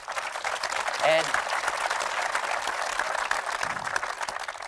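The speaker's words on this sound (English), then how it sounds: "Another round of applause for him." Audience at a technology town hall in Arizona giving a sustained round of dense applause, continuous and fairly loud throughout, with a brief voice rising over it near the start.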